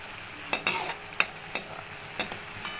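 Ground paste fried in a pan for a dudh potol curry, a soft steady sizzle broken by several sharp scraping strokes of a spoon stirring against the pan.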